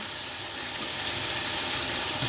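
Scallops sizzle steadily in a hot pan, a loud, continuous frying hiss with no talking.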